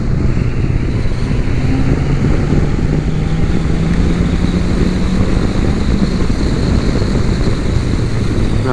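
A 2017 Polaris Slingshot engine pulls hard in third gear, a loud steady drone with a slowly rising tone, heavy wind rush over it throughout, and no talking.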